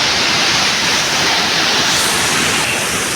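Chintapalli Kothapalli waterfall in heavy flow, a loud, constant roar of falling water close by, steady throughout with no voices.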